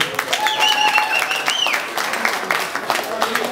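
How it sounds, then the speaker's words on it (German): An indoor audience claps briefly at a small presentation, scattered hand claps mixed with voices talking and a few whistle-like tones. "Wir dürfen noch mal klatschen, sonst ist es hier so leise."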